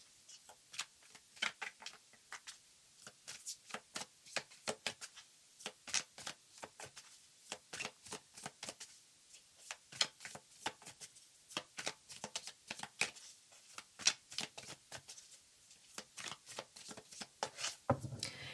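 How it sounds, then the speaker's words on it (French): Tarot cards shuffled by hand, close and quiet, a long run of quick riffling bursts and soft slaps in an uneven rhythm, with no voice. "Je mélange les cartes avec vous et je vous laisse découvrir votre tirage."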